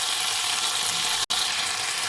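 Vegetables stir-fried with hot chilli garlic sauce in a pan crackle with a dense, loud sizzle, continuous apart from a momentary cut, with no voices.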